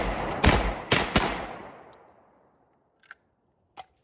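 A G Force GF25 magazine-fed 12 gauge shotgun fires three loud, close blasts in quick succession, each with a booming decay, followed by two faint distant clicks or knocks.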